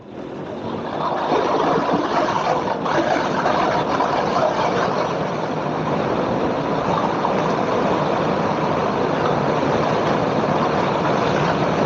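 Strong wind roars steadily and loudly while riding a motorcycle on a couple's tour around Anmyeondo, a dense, unbroken rush lasting the whole stretch with no talking.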